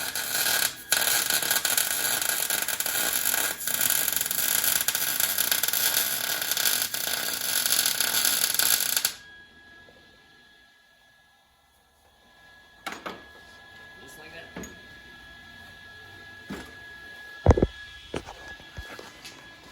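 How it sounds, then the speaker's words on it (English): Welding an internal wastegate on a bugeye Subaru WRX gives a loud, steady crackling buzz for about nine seconds, then it cuts off into near silence broken by a few scattered clicks and knocks. "So I'm just gonna be welding my internal wastegate right now."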